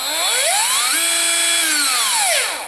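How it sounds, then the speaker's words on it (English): A Black+Decker LDX120C 20V MAX lithium-ion cordless drill driver whirs alone, its motor winding up in pitch, holding a steady high whine, then spinning down at the end; loud and close. "Just like any other cordless drill that we have out there, you can still do it slow or fast,"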